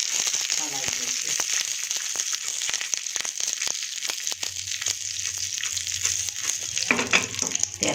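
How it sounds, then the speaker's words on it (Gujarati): Spice tempering with roasted chana dal sizzles in a pan for cabbage paratha, a continuous frying hiss broken by frequent sharp stirring clicks and scrapes, with a low hum entering partway through. "વઘારને આપણે આ રીતે હલાવી દઈશું।"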